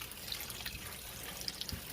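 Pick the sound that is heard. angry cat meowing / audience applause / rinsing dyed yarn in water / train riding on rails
rinsing dyed yarn in water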